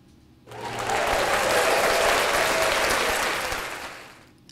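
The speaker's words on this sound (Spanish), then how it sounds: "y los aplausos que hemos pinchado al final." Applause sound effect fired from a podcast mixer's pads on a Tascam Mixcast 4, a dense burst of crowd clapping that swells in quickly, holds loud, then fades out.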